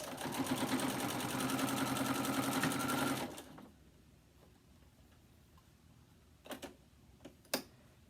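A sewing machine stitches a mini quilt along its binding and mitered corners, a loud, rapid even whirr running for about three seconds before stopping abruptly, followed by a few faint clicks and taps.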